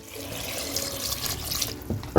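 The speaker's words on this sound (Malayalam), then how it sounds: "ഇതിലേക്ക് നമുക്ക് കുറച്ച് വെള്ളം ഒഴിച്ച് കൊടുക്കാം" Water pours quietly from a tap into a pressure cooker, a soft splashing stream that swells slightly toward the end.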